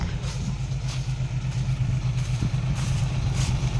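A car engine idles steadily nearby with a low, even rumble and faint background noise, no voices present.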